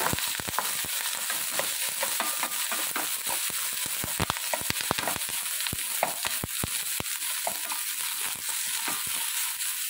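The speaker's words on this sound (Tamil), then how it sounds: "வெங்காயம் ஓரளவு வதங்கட்டும்" Onions and green chilies fry steadily in hot oil with popped mustard seeds, a dense, continuous sizzle scattered with sharp crackles and pops from start to finish, close and fairly loud, with no voices.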